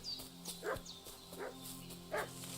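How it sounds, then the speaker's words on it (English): A dog barks in Kingdom Come: Deliverance II, a few separate excited yips and barks at moderate distance over a low steady game ambience, with no speech. "What's that dog making such a fuss about?"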